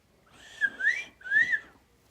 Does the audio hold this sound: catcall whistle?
yes